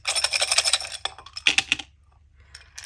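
Small hard Scrabble tiles rattle and clatter together in a bag in a quick burst of shaking, then a few faint clicks before it falls quiet.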